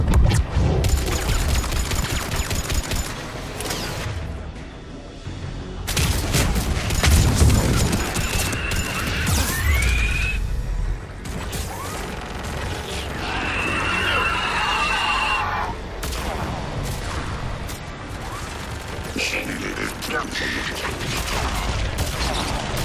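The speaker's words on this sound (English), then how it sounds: "Firing another salvo." A gunship in the Mass Effect 3 battle on Thessia fires a salvo, a run of loud booming blasts and whooshes set against rumbling battle noise, with bright rising and falling tones, close and heavy.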